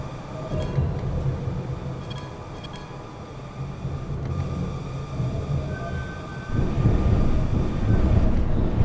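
Steady rumble of a video-game Vienna tram rolling over wet, slippery rails, with a faint squeal of wheels slipping and a heavier surge of running noise near the end; no talk.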